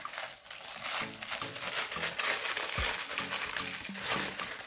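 A small plastic packet from an LOL Surprise doll unboxing is opened and crinkled up close, a steady dense rustling and crackling that runs throughout without speech.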